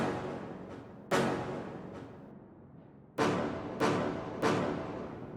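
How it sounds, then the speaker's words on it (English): Orchestra hit stabs from a beat, voiced across three octaves, sound as punchy hits that decay quickly, with softer repeats between them, then three louder stabs spaced evenly near the end, alone with no voices. "And I thought an orchestra hit would sound cool"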